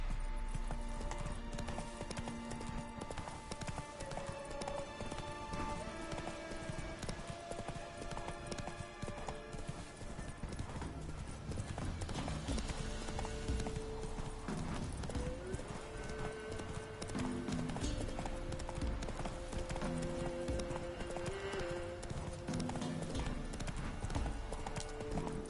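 Horse hooves clip-clop steadily and continuously in The Witcher 3, with a faint neigh now and then over a busy backdrop of game music and ambience.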